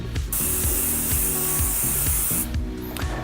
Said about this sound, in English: What we want to do is just spray a light mist onto a soft brush.